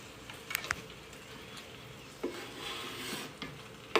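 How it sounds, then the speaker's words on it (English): A faint, steady sizzle of garlic frying in hot oil, with a few soft clicks and taps over the hiss. "And we're gonna sizzle it."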